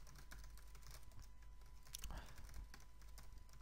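A new email address being typed on a computer keyboard: soft, rapid, irregular keystrokes running continuously at low volume over a steady background hum.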